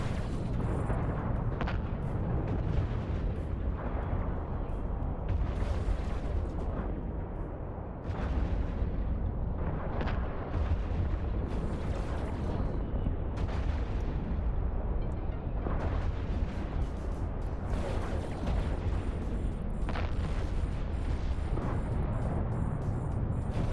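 Ships trade weapon fire in the EVE Online video game, a dense, continuous barrage of booming blasts and bursts layered over a heavy low rumble, loud and unbroken throughout.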